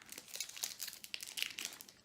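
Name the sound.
tearing open a trading card booster pack wrapper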